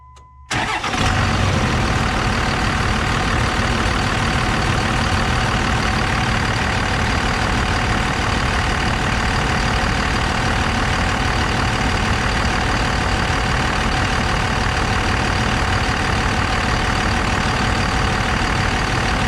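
Dodge Cummins diesel pickup truck engine cranks briefly and catches, then settles into a loud, steady, clattering idle that runs without change, close by and with no one talking.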